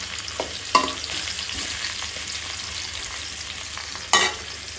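Food fries in a pan in a home kitchen, a close steady sizzle broken by a few sharp clatters of stirring, with no talk.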